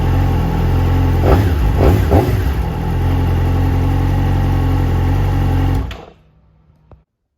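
Yamaha R6 motorcycle engine idling steadily while warming up, a loud continuous close drone with a couple of brief blips early on, then cut off abruptly near the end.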